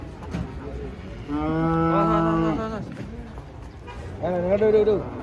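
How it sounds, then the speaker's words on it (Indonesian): Agitated humped cattle unloading from a truck give long, loud lowing moos, one drawn-out call followed by a shorter one, amid crowd noise and talking. "Ada sapi ngamuk."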